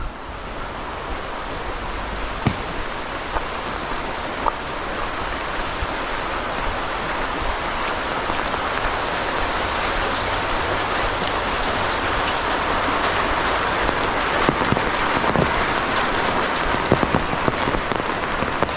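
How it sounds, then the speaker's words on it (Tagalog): Rain pours steadily at an outdoor construction site for a bungalow house, a dense, even hiss of drops on surfaces that holds close and loud throughout, with a few brief knocks. "Kung kailang nakarating tayo rito, doon pa umulan."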